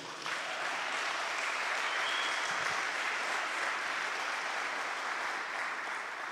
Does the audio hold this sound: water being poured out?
no